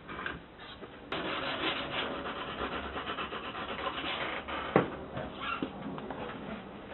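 Steady, continuous sanding rasps back and forth close by, with a brief sharp knock partway through and no talking.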